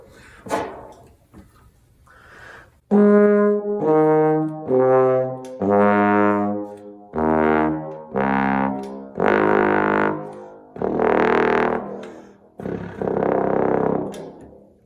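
A bass trombone plays a sequence of long, low sustained notes, each separated by short breaths, loud and close, in a deep buzzy register.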